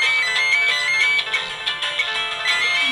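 A telephone ringtone trills in repeated bright electronic bursts, loud and close, in a home where calls come in on both landline and mobile phones; no voices are heard.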